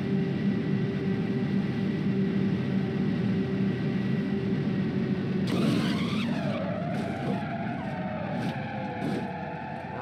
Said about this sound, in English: let's look at the car crash, but of course in real time